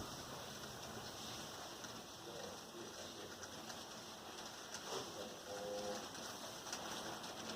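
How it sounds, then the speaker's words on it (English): Heavy rain during a Bay Area rainstorm, heard from indoors through a window as a steady, dense hiss that holds at an even level throughout. "it's just raining really hard"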